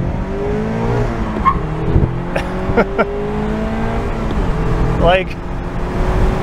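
A 2022 Mazda MX-5 engine revs hard through rapid gear shifts. Its pitch climbs steadily and drops at each change. The engine stays loud and close under someone talking.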